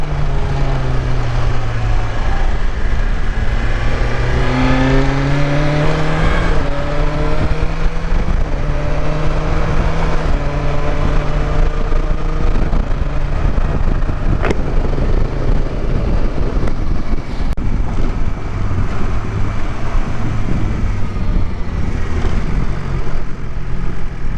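A 2020 BMW S1000XR motorcycle engine pulls steadily while being ridden through corners, its revs rising and falling in smooth sweeps under continuous loud wind rush, with no talking.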